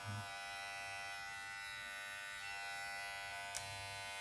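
A Powertec TR-6700 professional hair and beard clipper with a metal body hums with a steady, fairly quiet electric buzz for several seconds, broken by a single brief click near the end.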